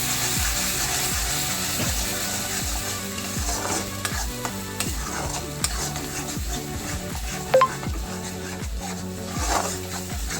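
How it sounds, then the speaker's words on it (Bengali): Spice paste with tomato paste, red chilli and Kashmiri chilli powder fries in oil for a catla fish kalia. A loud, continuous sizzle runs under rhythmic stirring strokes, with faint background music. "দিয়ে আমি মশলাটাকে কষানো থাকবো"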